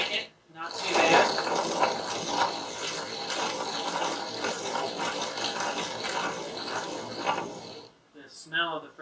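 A hand-cranked Arcade Crystal coffee grinder grinds beans with a steady gritty, ratcheting rasp that runs almost continuously, close and fairly loud, stopping near the end before a brief voice.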